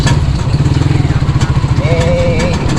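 Second-hand motorcycle with a sidecar, its engine idling in a rapid, steady loping putter close by, with a brief whistle-like tone rising midway through.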